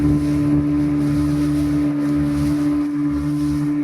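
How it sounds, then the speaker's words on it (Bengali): A speedboat cruises on Maithon Dam near Asansol. Its engine makes a steady, loud drone with a strong tonal hum, mixed with rushing wind and water noise and no talking. "আমরা আছি স্পিড বোটে।"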